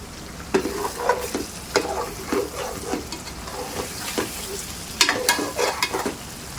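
Masala for stuffed baingan sizzles and crackles in hot oil while a spoon stirs and scrapes the pan in irregular strokes, close and fairly loud.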